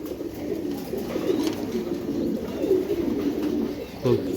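Low, soft cooing of Giribaz pigeons repeats close by in a steady murmuring rhythm over a quiet background hum.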